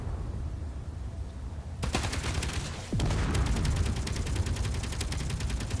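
Six guns blast from a ship in the Space Engineers video game, opening suddenly after a quiet hum into dense, rapid automatic fire, then a second heavier volley that joins in and keeps going loud and close.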